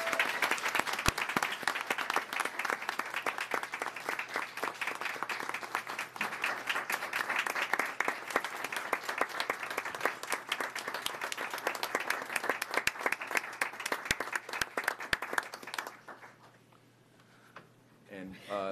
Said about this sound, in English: Can we have a round of applause for Board Member Anderson?